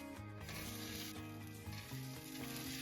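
Eggs rubbed with turmeric and salt fry slowly in a wok with a bright, continuous sizzle, while soft tonal music plays underneath.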